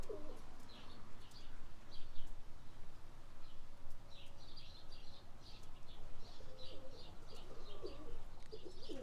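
Young homing pigeons settling after a training flight, soft repeated cooing calls near and far over a steady outdoor background, with occasional light chirps.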